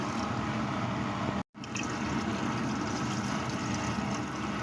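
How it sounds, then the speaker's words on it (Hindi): Water being poured into a pot of browning beef paya, a steady gushing and splashing of liquid that runs continuously, with one abrupt brief cut partway through. "2 kg पानी ऐड करूँगी।"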